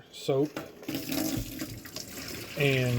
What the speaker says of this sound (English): First thing I do is dump the water